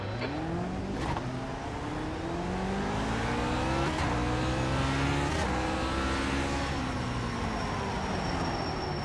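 Lotus 49 race cars in iRacing roar off the start together at Winton, engines revving and shifting up through gears, loud and continuous with several cars layered, no talk.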